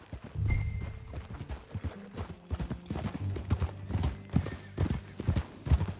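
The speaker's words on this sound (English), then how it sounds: "That new horse?" Hooves of a horse in a video game clip-clop steadily through the whole stretch in an uneven galloping rhythm, close and fairly loud, with creaking tack and faint mechanical noise behind.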